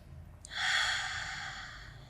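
During a Pilates workout, one airy breath sounds close to the mic after a moment of quiet, swelling quickly and then tapering off softly over more than a second, with no talking.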